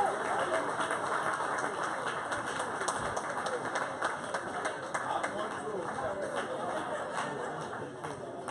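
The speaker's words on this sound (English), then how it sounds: "round of applause, ladies and gentlemen" Applause at a billfish tournament awards dinner for the winning team: a fairly faint, continuous clapping mixed with crowd chatter, laughter and talk throughout.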